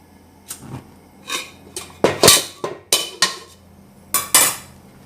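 Metal cookware clanks and clatters as a pan is set on a gas stove, about a dozen sharp knocks in an irregular rhythm, close and loud with quiet between.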